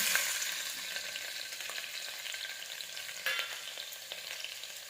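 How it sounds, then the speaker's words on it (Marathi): Crushed garlic sizzling in hot oil with cumin for moong dal khichdi, a steady close frying hiss with a few brief stirring clicks and no talk. "तो जो ठेचलेला लसण आहे तो टाकायचा"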